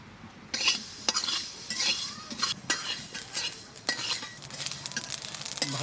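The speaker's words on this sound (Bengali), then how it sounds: "কড়াই চাপিয়ে দি, সরষে শুকনো লঙ্কা ভেজে নেব।" Mustard seeds and dried chilies frying in a wok, with repeated sharp scraping and clinking strokes of a metal spatula over a soft sizzle, close and fairly loud.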